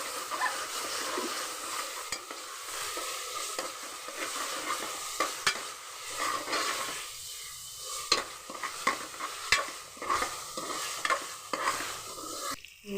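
Ginger garlic paste is stirred and fried into a home-cooked curry, with constant sizzling under repeated scraping strokes of a spoon against the pot, close and busy throughout.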